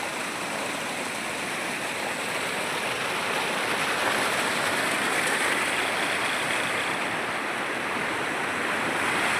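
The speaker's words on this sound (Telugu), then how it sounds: "ఎంత నీటి వేగం చూడండి ఎంత వేగంగా ఉందో" A fast-flowing stream, swollen and foamy after overnight rain, rushes close by near a small dam as a loud, steady roar of churning water with no letup.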